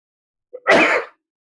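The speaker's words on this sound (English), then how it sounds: "excuse me, sneezing." A single short human sneeze, a quick intake followed by one sharp burst, close and clear, in an otherwise quiet room.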